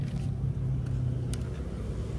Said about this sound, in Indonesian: Kondisi engine nyala ya.